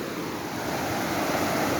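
Flash-flood water rushes through a forest stream in a steady, loud, broadband roar that holds without pause.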